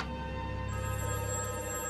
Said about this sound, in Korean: 곧바로 의사에게 전화를 걸어보는 베스